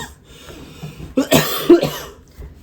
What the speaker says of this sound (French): Tu tousses par là, pas vers moi